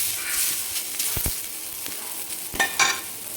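Onion roasts in a pan for a mutton masala, a steady close sizzle and hiss broken by a few scraping stirs of a spatula, with no talking.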